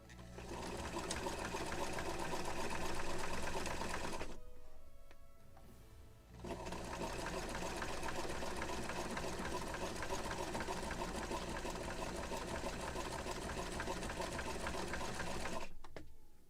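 A sewing machine stitches sails for a model ship of the 1776 gunboat Philadelphia, running in a fast, even whir for several seconds, stopping briefly, then running again in a long steady burst before cutting off.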